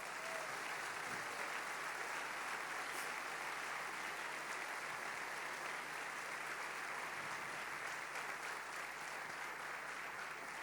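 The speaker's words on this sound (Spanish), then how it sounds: "Vamos a dar un fuerte aplauso a Jesucristo." A church congregation applauds during an evening service, a dense steady wash of many hands clapping at a distance, even and sustained without pause.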